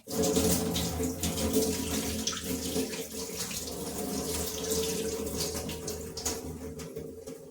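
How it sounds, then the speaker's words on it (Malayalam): Tamarind water is strained and poured out of a clay cooking pot, giving a steady, fairly loud continuous splashing flow like running water that lasts throughout. "അപ്പോൾ ആ പുളി നമുക്ക് കളയാണ്ട് ഈ വെള്ളം മാത്രം ഊറ്റി കളയണേ"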